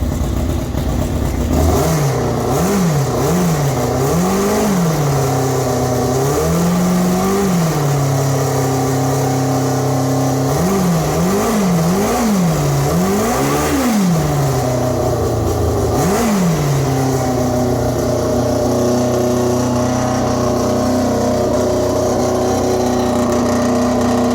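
A Formula 4 race car engine revs up again and again over a steady idle, with bursts of rising and falling pitch in two clusters and then one last blip, loud and close throughout.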